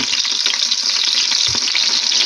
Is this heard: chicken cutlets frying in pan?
yes